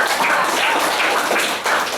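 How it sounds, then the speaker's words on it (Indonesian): A classroom group of students gets a round of applause: dense, steady clapping from many hands, close and loud throughout, with no talk over it. "Tepuk tangan untuk kelompok."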